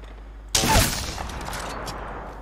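In Apex Legends, gunfire strikes an enemy's shield, opening with a sudden loud burst that decays into a sustained noisy wash.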